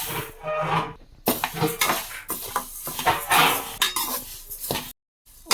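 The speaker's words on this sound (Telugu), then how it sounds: "ఉలవలు బాగా వేగాలండి, లేదంటే పచ్చి వాసన వస్తుంది" Horse gram is dry-roasted in a pan, with a busy rattle and clatter of a metal spoon scraping the seeds around in close, uneven bursts. Brief silent gaps break the sound.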